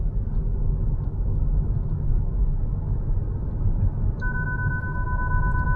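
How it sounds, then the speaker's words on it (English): Hyundai Ioniq 5 electric car sounding a steady two-tone warning alert that comes in near the end, loud over constant road and cabin rumble while driving. "Stop vehicle and check power supply with really loud noise."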